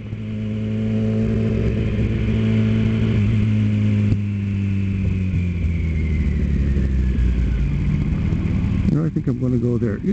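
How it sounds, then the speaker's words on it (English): A motorcycle engine runs steadily, its low rumble rising and falling as it revs, with rushing road or wind noise near the end. "And the engine sounds crisp too. It's supposed to be an improved engine."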